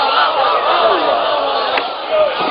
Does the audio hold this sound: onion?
no